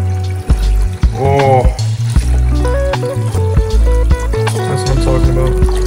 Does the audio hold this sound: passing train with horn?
no